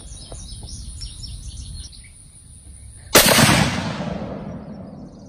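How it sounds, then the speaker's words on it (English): A single loud, sharp shot from a Mossberg Patriot .30-06 rifle firing Wolf 140-grain soft-point ammunition rings out abruptly and decays, following a stretch of outdoor birdsong and chirping. "First shot ever with the Mossberg."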